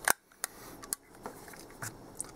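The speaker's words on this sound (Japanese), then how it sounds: "ではここで1000分の1秒高速シャッターきちんと開いているかどうかチェックしていきます。" A 1958 German-made Leica M3 single-stroke rangefinder fires its shutter at 1/1000 second, a crisp mechanical snap followed by a few softer clicks from winding and handling, close and otherwise quiet.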